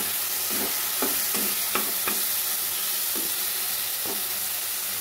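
Spice paste with ground coriander and a little sugar frying in a pan for prawn kofta curry, a steady close sizzle with intermittent scraping stirs of a spoon, no talk.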